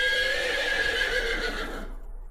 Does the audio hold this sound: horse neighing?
yes